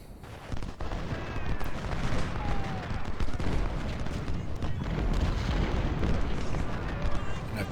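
Artillery booms repeatedly in the Ultimate General Civil War video game at the battle of Shiloh, a dense continuous rumble of cannon fire and explosions with someone talking faintly underneath.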